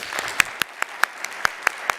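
A small audience at an education conference's open mic battle gives a short, rhythmic round of clapping, evenly spaced sharp claps standing out close and alone.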